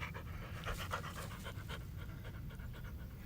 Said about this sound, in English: that dog, she can't stay out of the water